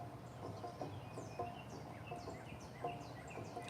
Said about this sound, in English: I'm just listening to some birds that are in the garden